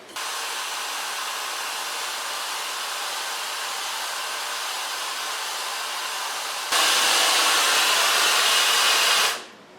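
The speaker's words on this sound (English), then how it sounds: "now I'm going to blow dry this with a diffuser" A hair dryer fitted with a diffuser blows steadily on curly hair at a salon, a loud even whoosh that steps up to a stronger setting partway through before switching off at the end.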